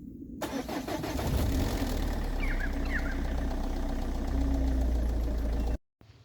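A diesel car engine starting from cold, firing up close and loud, then idling with a steady knocking rattle for several seconds before cutting off abruptly.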